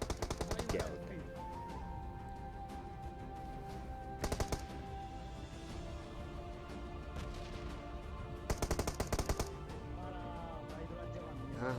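Gunfire in a battle royale video game: short bursts of rapid automatic shots crackle in three clusters over continuous game sound and someone talking.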